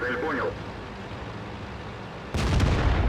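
A single heavy cannon blast from an A-44 tank in World of Tanks booms out near the end, following a stretch of low engine rumble and brief speech.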